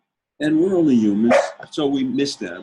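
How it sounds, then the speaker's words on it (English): A dog barks and whines close by in a home, overlapping a voice as he talks. "that was my dog wanting to be with my wife."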